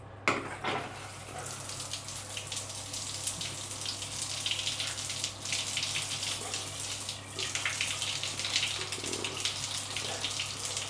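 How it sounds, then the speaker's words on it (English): An electric shower in a hotel bathroom runs water in a steady hiss and spatter, with a low electrical hum beneath, close and continuous with no talking. "No rainfall, it's actually just an electric shower."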